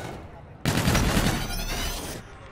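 Gunfire bursts out in a Call of Duty: Infinite Warfare multiplayer match as players shoot toward the middle of the map. One loud, close volley lasts under two seconds over faint background sound.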